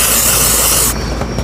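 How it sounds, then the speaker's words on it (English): A loud, close burst of spray adhesive from an aerosol can hisses for about a second, then cuts off, leaving quieter room noise and small handling sounds. "This is my spray adhesive."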